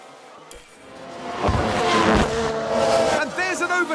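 Formula One race cars overtake in the F1 Manager 2022 racing game, with engine whines rising and swelling as the cars pass close by and a voice commenting over them.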